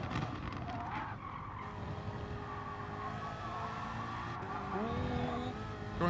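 A BMW M6 GT3 race car in a racing video game at Mount Panorama rides over a curb, its engine droning steadily while the tires skid and squeal briefly near the end.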